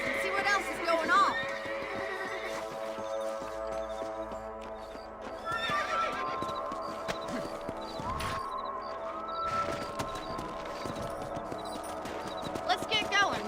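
Horse hooves clip-clop at a riding pace in the Red Dead Redemption game, with whinnies and neighs rising over steady ambient music and someone talking throughout.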